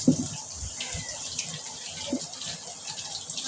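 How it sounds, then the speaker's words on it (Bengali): Okra being washed by hand under a running tap in a home kitchen, a steady hiss of flowing water with soft splashing and handling noises throughout, close and moderately loud. "ভেন্ডি ভাজি করবো, সেজন্য ভেন্ডিটা ধুয়ে নিতেছি ভালোভাবে"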